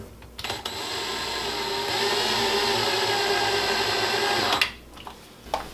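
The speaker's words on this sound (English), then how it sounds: "What I'm going to do is put the screw in that position." Power screwdriver driving a screw into a Fulterer drawer slide (Serie 795) on a cabinet unit, one continuous whirring motor run of about four seconds, close and loud, with short clicks before and after.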